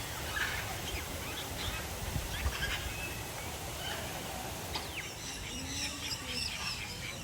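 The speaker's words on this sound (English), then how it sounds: "There are so many geese." Geese honking among other birds in an aviary in Daman, a faint, distant, scattered calling over steady outdoor background noise.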